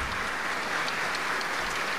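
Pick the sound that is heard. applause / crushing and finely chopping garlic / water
applause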